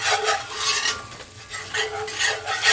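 Onions going into oil in a pan for Southern-style smothered cube steak gravy, giving a soft sizzle with stirring scrapes that swell and fade in short waves, close and alone without talk.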